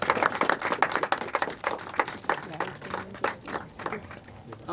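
Loud, dense applause from an audience at a ghazal album cover launch, many hands clapping together in a continuous rattle that swells and ebbs, with voices mixed in underneath.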